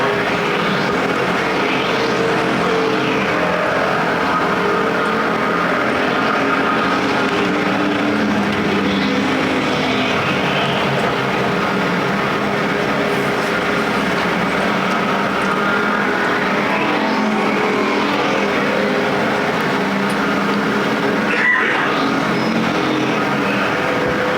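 At Perris Auto Speedway, a pack of American Factory Stock race cars roars around the track in a main event, a continuous dense engine drone that swells and fades as cars pass, with no voices.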